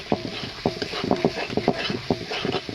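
Spice masala of coriander, cumin and chili powder frying for crab curry, stirred with repeated rhythmic spatula scrapes and knocks over a light sizzle, close up and without speech.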